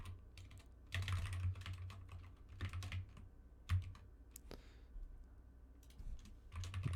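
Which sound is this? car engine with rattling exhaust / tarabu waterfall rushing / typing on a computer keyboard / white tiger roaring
typing on a computer keyboard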